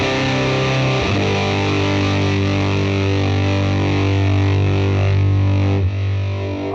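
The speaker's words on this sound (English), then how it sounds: "This one has a big, bold, fuzzy sound." Electric guitar through a Fender Mustang GT amp on its big fuzz setting, thick saturated chords ringing out loud and sustained with a fresh strum around one second and another near six, no voices over it.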